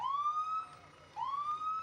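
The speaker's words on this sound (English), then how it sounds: "We just have to get used to talking over the emergency vehicles" A fire ladder truck's siren at a peach festival parade, wailing up and holding high twice in a row, loud and close with nothing over it.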